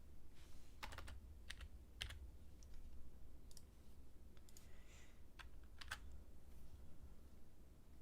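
Keystrokes on a computer keyboard during a live sneaker-buying stream: sparse, irregular clicks and short bursts over a steady low room hum, with no talking.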